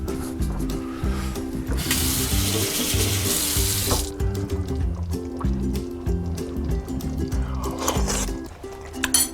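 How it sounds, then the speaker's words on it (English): A spoon is rinsed under a running kitchen sink tap while cooking chili, with a steady hiss of water and clinks, the flow cutting off midway and returning briefly near the end. "Wash my spoon."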